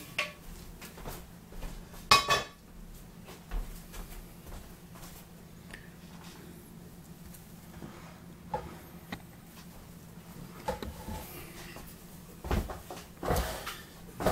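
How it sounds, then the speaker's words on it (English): Cooked onions and garlic dumped from a cast iron skillet into a bowl for meatloaf balls: a few metallic clanks and scrapes, scattered soft knocks and shuffles, fairly quiet and sparse with no talk. "So I just cook them up in a cast iron skillet. Dump those in."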